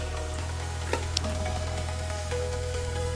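Beef kidney hitting hot red palm oil in a pan gives a steady, close sizzle with a few brief crackles over a constant low hum.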